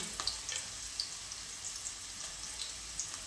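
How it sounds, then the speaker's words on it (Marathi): Chopped onion and finely cut green chili sautéing in a pan for restaurant-style cabbage manchurian, giving a steady, close hiss of sizzling oil with faint crackles and occasional stirring scrapes. "तर कांदा परतत असताना त्याच्यामध्ये बारीक कट केलेली हिरवी मिरची टाकायची"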